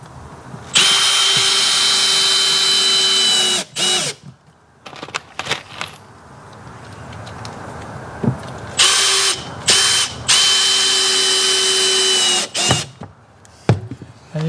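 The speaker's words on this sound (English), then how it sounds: "They're 1¼-inch screws, so we sink them about 1/4 of an inch" A power drill sinks 1¼-inch screws into a glued wooden nuc box in several bursts, each a high-pitched whine that bogs down as the screw seats, separated by clicks and handling noises.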